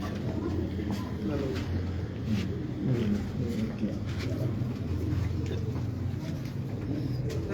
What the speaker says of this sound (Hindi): पहले ये कबूतर देखिए कसूरी